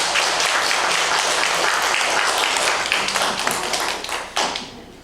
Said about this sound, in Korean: 다시 한번 환영의 박수 쳐주십니다.